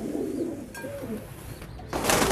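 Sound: pigeons cooing

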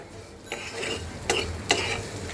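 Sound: stirring and sautéing shrimp with potatoes in pan

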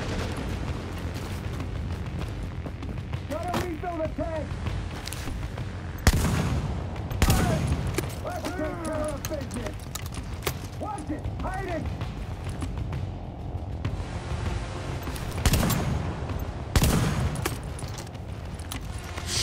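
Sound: shotgun gunfire in the video game The Division

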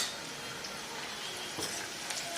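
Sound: brinjal with chilli, turmeric and goda masala frying in oil

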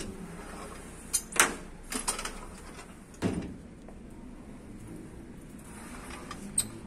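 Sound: sliding mosquito screen door being moved

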